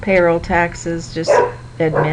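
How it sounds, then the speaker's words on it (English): A dog barks indoors in several short, loud bursts, mixed with someone talking nearby. "excuse my dog"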